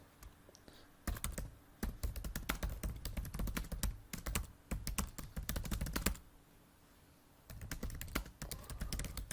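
Close, quiet typing on a computer keyboard as a comment is entered, rapid clicking bursts that stop briefly and then resume, with no talk.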